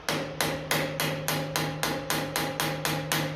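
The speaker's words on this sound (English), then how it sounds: "I'm using the impact on it with a plastic hammer" Regular, evenly spaced blows from a plastic hammer on a rusted pipe clip of a 1957 Ferguson FE35 TVO tractor, about three per second, each a sharp clank with a short metallic ring.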